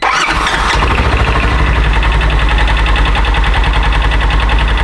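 A side-by-side UTV with its belt box off cranks and fires up, then settles into a loud, steady close-up idle with a dense mechanical rattle and a faint squeal on top.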